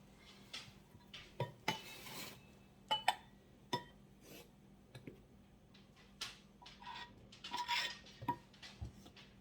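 A spoon works flour into zucchini cake batter in a bowl, making quiet, irregular scrapes and light clinks in short bursts with brief pauses between them.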